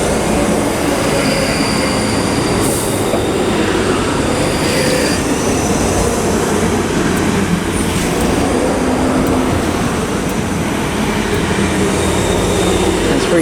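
A Class 334 electric multiple unit at Haymarket station rumbles steadily and loudly close by, with continuous wheel and rail noise and faint high squeals throughout, no voices.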